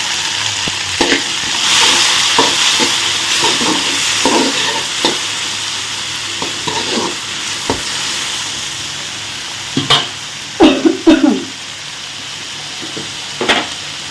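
Tomatoes stirred into sautéed onions in a hot pan for a chayote curry, a steady sizzle with repeated scraping stirs and a few louder clanks near the end.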